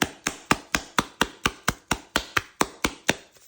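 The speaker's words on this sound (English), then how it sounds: "Get this and you clap all that dust out." Dyson V10 cordless vacuum filter parts clapped together to knock out dust, about fifteen sharp, evenly spaced hollow claps close up, steady rhythm slowing slightly at the end.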